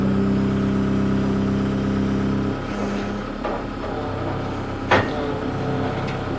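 A forklift-style machine's engine, idling with a steady low hum that dips and shifts as its forks work at lifting a trailer beside a sawmill, with a couple of clanks.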